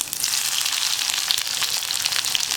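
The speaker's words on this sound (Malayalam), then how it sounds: "കടുക് പൊട്ടി കഴിയുമ്പോൾ ഇതിലേക്ക് ഉള്ളി ചേർക്കാൻ പോവാണ്" Sliced onions and popping mustard seeds fry in hot oil for a snake gourd dal curry. A dense, steady sizzle crackles on without a break, close and fairly loud, with no voices.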